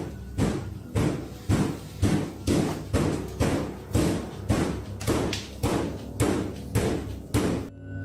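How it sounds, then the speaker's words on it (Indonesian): Another door is knocked on with a long, steady run of heavy thuds at roughly one-per-second pace, each blow loud and close, continuing for several seconds without speech. "Dan menyusul pintu lain lagi juga diketuk."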